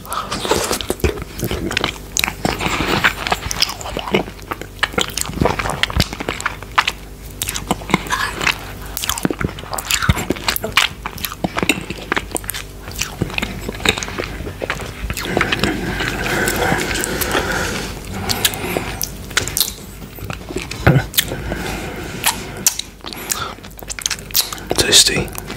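Close, wet chewing of mochi with yuzu ice cream, with steady sticky bites and squelches repeating throughout, loud and intimate, with soft talking at times.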